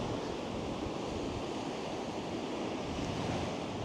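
Steady broadband rush of water washing ashore on Kangaroo Island, Australia, continuous and fairly loud, with a windy hiss blended in and no voices.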